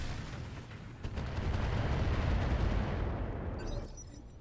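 Rapid gunfire bursts and heavy booming shots crackle in a video game battle, building into a dense, loud volley that fades out after a few seconds.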